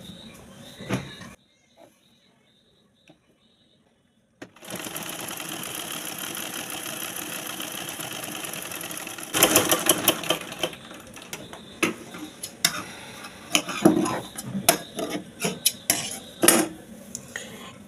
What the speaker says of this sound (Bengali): আবারও একটি সেলাই করে আমি আপনাদেরকে দেখাচ্ছি।